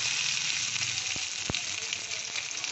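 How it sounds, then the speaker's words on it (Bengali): Boiled eggs coated in salt and turmeric fry in hot oil with a dense, continuous close sizzle, punctuated by a couple of brief pops or utensil taps. "ডিম আমি নুন হলুদ মাখিয়ে ভেজে নিলাম।"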